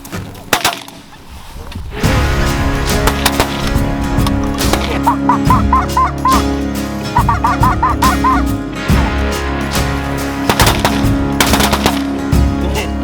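Several sharp shotgun blasts ring out at intervals over a low droning hum, with bursts of goose or duck honking in between.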